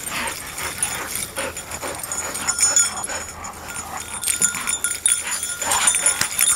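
A dog whimpers and yips in short, excited bursts, close by, with scuffling movement and faint background noise.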